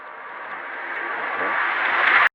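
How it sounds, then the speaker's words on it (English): A rising synth riser swells steadily in brightness and loudness for about two seconds, then cuts off abruptly into silence. "I added this riser from my kit."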